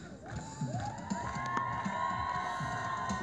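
Crowd at a youth creative parade on Krasnoyarsk's 388th City Day cheering and shouting, with children's voices and whoops over steady background noise and tonal music-like lines.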